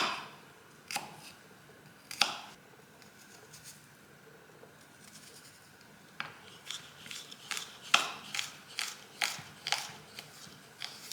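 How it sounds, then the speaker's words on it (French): Garlic being chopped on a board with a knife, irregular sharp taps that grow into a quicker series of close, crisp strikes toward the end. "Et ensuite, on va venir hacher notre ail."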